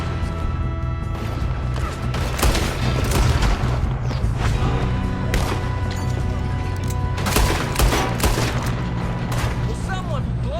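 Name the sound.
gunfire in Red Dead Redemption II video game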